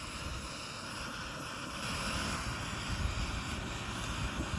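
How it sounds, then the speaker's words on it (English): Steady wind buffets the microphone outdoors at a camp cooking spot, a continuous low rumbling roar with no talk. "It's a little windy today."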